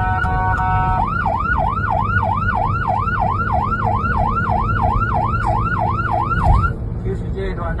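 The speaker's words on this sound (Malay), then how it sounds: "Biarpun telah dibunyikan siren" An ambulance siren wails in a fast, regular yelp cycle, loud and close, over steady road and engine rumble for several seconds before cutting off abruptly.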